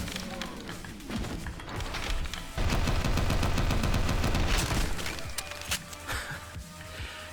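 Rapid gunfire bursts from the first-person shooter game Maximum Action, loud and dense with overlapping shots, heaviest in a sustained volley in the middle, with a voice talking over parts of it.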